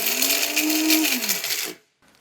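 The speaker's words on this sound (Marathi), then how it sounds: "झाकण लावायचं आणि मिक्सरला पावडर करूयात." A kitchen mixer grinder whirs loudly while powdering whole biryani masala spices, its motor whine holding steady, then falling in pitch and cutting out into silence, followed by a faint rattle.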